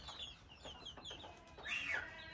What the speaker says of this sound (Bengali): মোরগ এটা দেশি মোরগ